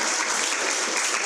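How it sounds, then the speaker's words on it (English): Brief, dense wash of audience applause in a lecture hall, steady and fairly loud throughout with no voices. "Give yourselves a round of applause."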